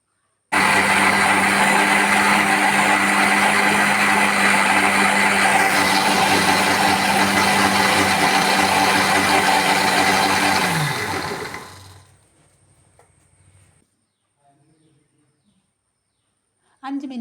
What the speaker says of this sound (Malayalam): രണ്ട് വെളുത്തുള്ളി, കുറച്ച് വെള്ളമൊഴിച്ച് നമുക്ക് അടിച്ചെടുക്കാം.